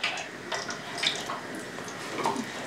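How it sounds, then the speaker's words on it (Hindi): Water poured into a cooking pan before potatoes go in for pakora snacks, a steady splashing pour that runs for the whole moment with no talking. "हल्का सा पानी डालेंगे थोड़ा सा"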